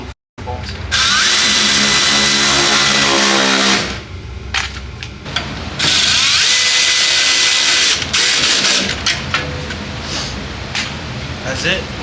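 A power tool drives the plastic fender liner bolts on a 2025 BMW M2 in a garage, in long, loud, sustained whirring bursts with brief pauses between fastenings, a voice speaking alongside.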